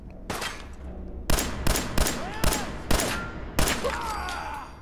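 Gunfire from a firefight against raiders at the Corvega Assembly Plant in Fallout 4: about seven loud, sharp shots in an irregular burst, each with a short echoing tail.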